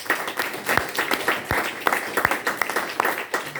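A church congregation claps and applauds for Jesus during a service, a steady wash of many hands with some louder individual claps, fairly close and lively.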